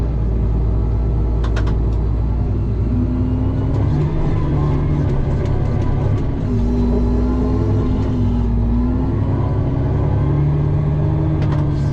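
Two forage choppers run during corn harvest on the last day of corn, giving a loud, continuous engine drone with a deep steady hum and rising and falling whine, close and unbroken, with no talk.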